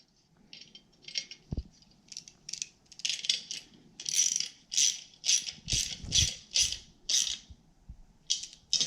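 A 6mm hex key tightening a bolt on a motorcycle fender eliminator for a Yamaha FZ-07 in a garage, close repeated ratcheting clicks in quick bursts with a brief metallic knock near the start.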